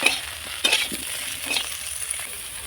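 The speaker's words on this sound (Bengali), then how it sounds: "ফুলকপিগুলো আমি একটু লবণ দিয়ে ভাজবো।" Cauliflower florets fry in hot oil with salt for a Bengali prawn-and-cauliflower curry, giving a steady close sizzle with a few sharp clinks and scrapes of stirring.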